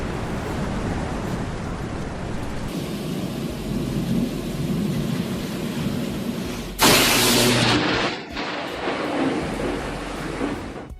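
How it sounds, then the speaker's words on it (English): A lightning strike hits near a house at night, producing a long, heavy rumble of thunder under steady rain, then a sudden loud crack and roar midway before the rumbling fades back into the downpour. "A lightning strike shook an entire house."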